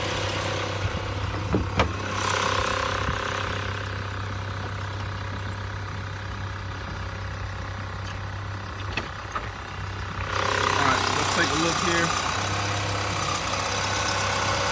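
A car engine idles steadily at an Adesa auto auction screening, a rather loud, constant low hum with brief clunks, while someone speaks briefly nearby.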